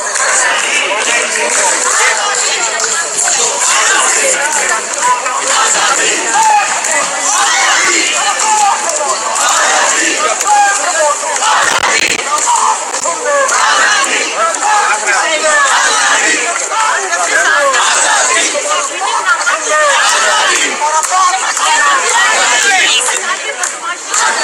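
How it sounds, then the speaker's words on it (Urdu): A dense protest crowd in London chants slogans in support of Imran Khan and his release, a loud and continuous mass of voices with overlapping shouts and cheers that never lets up. "عمران خان صاحب کے حق میں ان کی رہائی کے لیے نعرے بازی کی گئی"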